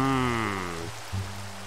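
Rain falls steadily in a video game, a close, constant wash of drops. A tonal descending sweep plays over it, and the rain carries on alone.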